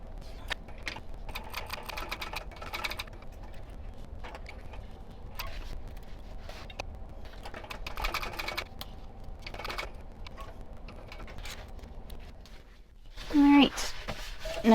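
A sewing machine on a 3.5 stitch length running a seam on a handbag, a steady fast mechanical ticking hum throughout at moderate distance, with a short louder clatter near the end.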